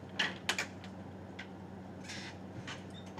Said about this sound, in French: Vous pouvez taper sur les touches de votre clavier où il y a marqué AZERTY